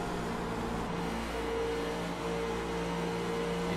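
Xfinity stock car engine at Indianapolis holding high revs, just under 7,000 RPM, a sustained, fairly faint whine with steady tones and no voices.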